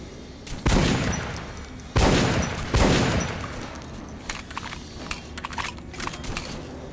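Volley of rifle fire on a training range in the video game Metro: Last Light, with three loud, close bursts in quick succession followed by scattered lighter shots and clatter.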